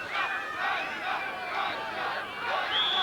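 A football crowd at a 1980 Adelaide match between Croatia and Para Hills roars and cheers in rising and falling waves, a distant massed swell heard in injury time with no clear talk over it.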